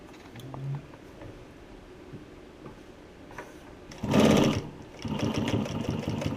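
A Juki walking foot sewing machine stitches car upholstery fabric in a short, loud run of rapid mechanical chatter near the end, preceded by quiet handling noises.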